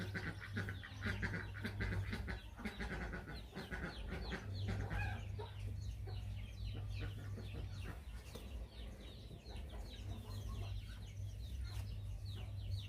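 Several chickens cluck busily near a Lao vegetable garden in Savannakhet, overlapping calls coming close and continuous above a constant low drone.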